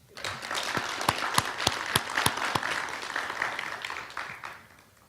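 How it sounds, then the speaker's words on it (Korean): An audience at a cultural heritage care program's tenth anniversary ceremony breaks into applause, sharp individual claps quickly filling into a sustained round that tapers off, heard from within the hall. "우리 박수 한번 주시죠"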